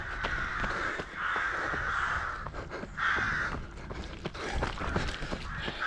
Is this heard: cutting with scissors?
no